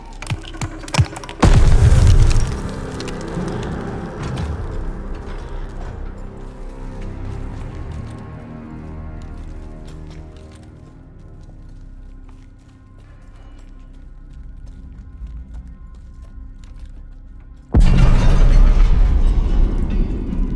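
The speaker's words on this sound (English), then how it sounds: "Grenade! Get down!" A grenade goes off in the Call of Duty Vanguard Operation Tonga mission, set at Merville, France in 1944: a sudden heavy close blast that rumbles into a long rolling battle din, then a second loud boom near the end.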